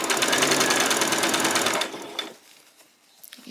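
A sewing machine stitches a doll's skirt in a fast, steady run of needle strokes, close and loud for about two seconds, then stops and leaves faint handling noise.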